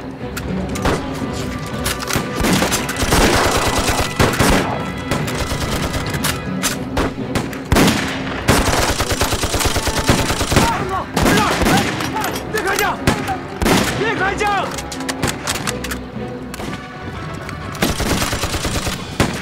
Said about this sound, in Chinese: 鬼子来了当然要开枪